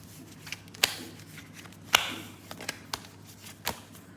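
Tarot cards shuffled and drawn by hand: a few sharp riffling snaps and soft slides spaced out over a quiet background, close and fairly faint.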